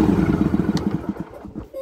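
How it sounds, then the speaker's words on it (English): A John Deere ride-on mower tractor engine cranks with a rapid rhythmic chugging and clatter, close and loud, then sputters and fades out after about a second. "let's start the tractor."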